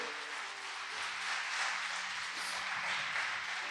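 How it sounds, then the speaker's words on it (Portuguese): A church congregation applauds during a sermon, with soft, sustained clapping that sounds somewhat distant, alongside a low organ or keyboard drone. "ele merece uma salva de palmas"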